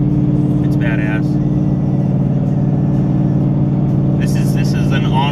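A 2015 Ford Mustang GT fitted with a Stainless Works exhaust cruises at highway speed, about 80 mph. From inside the cabin there is a steady, loud, low droning rumble throughout, with brief higher bursts of noise near the start and end.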